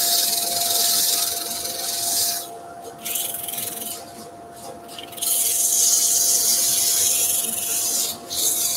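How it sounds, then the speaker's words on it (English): Loud continuous hiss and rasping rush of a dust extractor sucking up wood debris, with a steady machine hum underneath and brief drops in intensity. "You're wondering what the noise is coming from the dust extractor."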